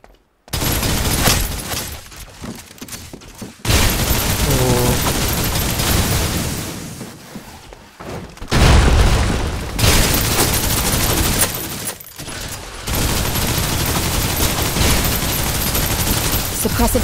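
Rapid gunfire and booming explosions in the video game Snowbreak: Containment Zone, dense sustained bursts with brief gaps, loud and continuous, with game voices speaking over the battle.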